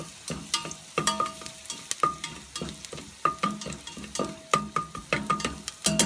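Gentle sizzling of shallot sweating in a hot pan with repeated scraping and stirring clicks, steady and close, no voices.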